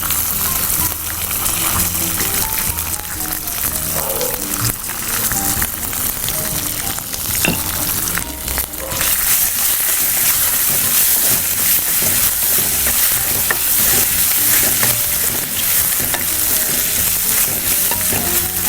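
Dry red chilies, coriander and grated ginger fry in a pan for a raw mango dish, giving a steady, loud, dense sizzle that holds throughout with occasional stirring scrapes.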